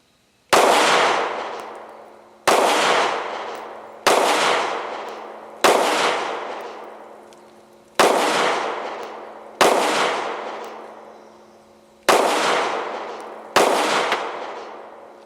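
Eight sharp, loud gunshots from a subcompact pistol firing Magtech steel-cased 9mm ammo, spaced about one and a half to two seconds apart, each with a ringing outdoor decay.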